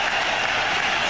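Cricket crowd in a stadium giving a sustained, loud ovation of dense applause and cheering for Sachin Tendulkar's fifteenth one-day international century, steady throughout the short stretch.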